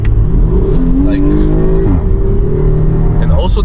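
A Porsche Panamera 4S engine (420 hp) revs up with a rising, throaty roar, then settles back, loud and close throughout.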